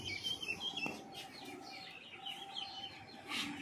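Several pet birds, including Chinese chickens, chirp and cluck softly in the background, with a faint sharp click near the start and steady low ambient noise throughout.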